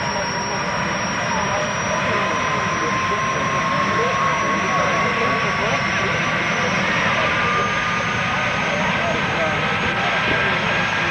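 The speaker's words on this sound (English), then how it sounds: "There's a helicopter getting ready to take off." Loud, constant engine roar with a rising whine, like a helicopter idling and spooling up nearby, with no break in the noise.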